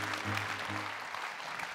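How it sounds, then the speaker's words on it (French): Applause from an audience at an evening launch event in Wallonia, a soft, steady wash of clapping heard from a distance, with a low hum underneath during the first part. "Je pense qu'on peut applaudir toutes les équipes qui ont travaillé sur cette nouvelle identité."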